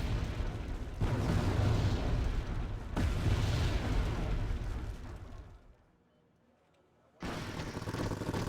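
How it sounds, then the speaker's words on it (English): Mortar shells landing in the war strategy game Wargame AirLand Battle: two heavy booming blasts with rumbling tails, then a brief near-silent gap before more rumble resumes. "And here come the mortars, which are definitely a pain in the ass when I'm trying to move up like this."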